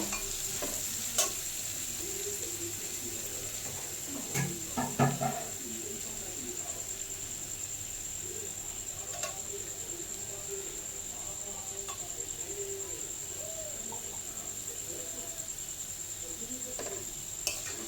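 Khoya kheer being stirred in a pan over low gas for mango sandesh, giving a soft continuous scraping sizzle with a few sharper clinks of utensil on pan, all under a steady high whine.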